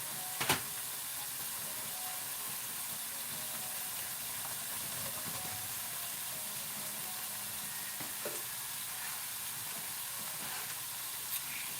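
Garlic butter shrimp with Cajun seasoning and broccoli sizzles steadily in a pan, a quiet, even hiss with a few faint clicks and stirring knocks, and no talking.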